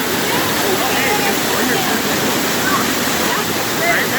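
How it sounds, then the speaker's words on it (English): A jungle waterfall in Khao Sok pours in a loud, steady roar close by, with scattered high shouts and calls from people swimming faintly on top. "brought us to a waterfall, and now we're all swimming"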